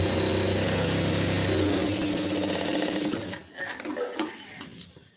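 A sewing machine stitches a blouse lining in a steady, loud run for about three seconds, then stops, followed by soft handling and rustling of fabric.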